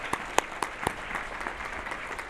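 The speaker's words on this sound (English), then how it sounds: "Yes, let's give it a round of applause." Gala audience applauding: a few sharp, distinct claps stand out at first, then lighter scattered clapping continues quietly in the background.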